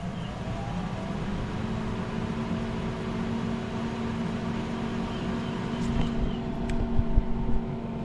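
A pellet smoker running after start-up on a rib program, giving a steady droning hum with a low rumbling fan-like whir that holds level throughout, and a few faint clicks near the end.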